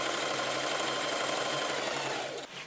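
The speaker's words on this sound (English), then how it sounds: "and then I'm going to sew it together" A sewing machine runs steadily, stitching a seam on a floral dress being up-cycled into a 1940s-inspired style, a continuous close whirring hum that slows and stops near the end.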